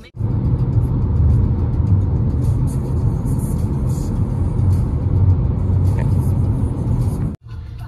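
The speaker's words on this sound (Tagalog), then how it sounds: "Traffic na naman kami" Steady road and engine rumble of traffic heard from inside a car on a road trip toward Squamish and Alice Lake, a continuous close drone that drops out briefly near the end, with faint talk beneath.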